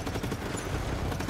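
Rapid, continuous gunfire in the Just Cause 3 video game during a mission escape, a dense unbroken barrage of automatic shots at steady loudness with no pauses.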